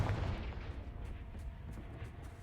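A Confringo fire spell blasts in the Hogwarts Legacy video game, a deep booming burst at the start followed by a rumbling, crackling tail that fades out.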